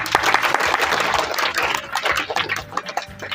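Studio audience applause on a kids' quiz game show, a dense, loud burst of clapping that runs steadily for the whole stretch with no break.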